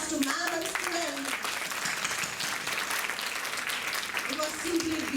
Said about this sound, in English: Please give applause to ma'am and students.